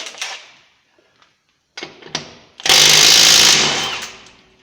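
A Milwaukee M12 stubby cordless electric impact gun removes nuts torqued to 70 pounds. A few short rattling bursts come first, then a loud, sustained hammering whir close by that slowly fades.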